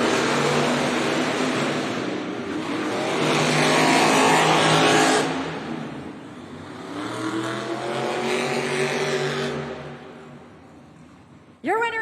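Monster trucks Grave Digger and Jurassic Attack race side by side in an indoor arena, engines roaring and revving in loud surging waves, with an announcer talking over the din and a crowd behind.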